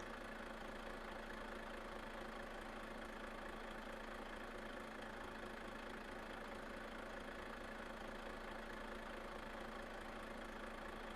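A Renault T truck engine idles in Euro Truck Simulator 2, a steady low rumble with a faint knocking texture holding level throughout, alone with no talk.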